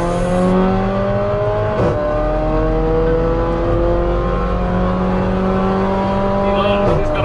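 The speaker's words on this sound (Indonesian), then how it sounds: "kita bisa denger ya suara raungan daripada exhaustnya itu" A Mercedes GLA 45 AMG in manual mode accelerates hard on an empty track, its exhaust roaring loud and close with engine tone rising steadily through the gears and short dips at the shifts.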